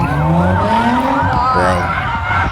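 Cars at a street sideshow at a busy intersection produce loud, continuous tire squeals and skidding with revving engines, wavering shrieks sliding up and down, over a dense crowd-and-traffic roar.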